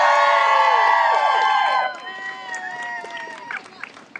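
At a protest outside the Shell AGM, a crowd whoops and cheers loudly for almost two seconds, then the noise falls to scattered shouts and voices.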